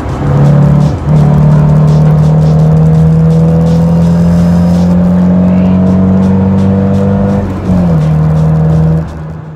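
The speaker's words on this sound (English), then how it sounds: "do the last few rips on the KA." A Nissan 240SX with a KA engine revs hard while driving, loud and close from inside the car. It holds a steady high drone, drops briefly for a gear change near the start and again toward the end, then climbs again.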